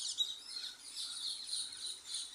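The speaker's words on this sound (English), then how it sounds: "Those are green parrots in Tipton, in the West Midlands, England." Green parrots flying around in Tipton, West Midlands, England, give high, faint chattering calls that repeat steadily through the short stretch with no voices.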